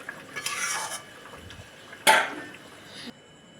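Pieces of catla fish slid one by one into a pot of boiling yogurt gravy, giving soft splashes, a sharp clatter and brief sizzling bursts close by, with no talking.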